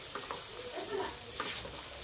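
Spices for a kathla fish curry with mustard fry in oil in a pan, a soft steady sizzle with a few stirring clinks, fairly quiet with a faint voice in the background.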